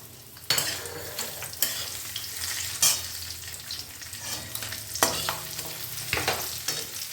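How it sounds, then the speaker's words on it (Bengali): Raisins and cashews fry in a pan for Bengali sweet pulao, a constant sizzle broken by repeated scraping stirs and clinks of a spoon, close and moderately loud with no talking. "এবারে এখানে দেখুন কিশমিশটা দিয়ে দিলাম।"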